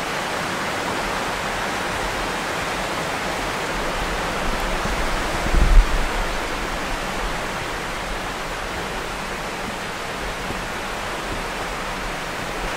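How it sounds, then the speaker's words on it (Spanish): A river's rushing water makes a steady, broadband hiss of flowing water, constant throughout with one brief low thump partway through, and no voices. "el ruido rosa que está produciendo el agua del río es una portadora maravillosa"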